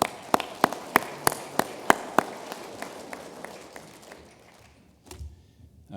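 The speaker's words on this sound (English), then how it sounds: "let's give her a round of applause." Applause at an honors and awards ceremony sounds thin and sparse: a run of sharp, evenly spaced single claps, loud at first, then fading away after about four seconds into near quiet.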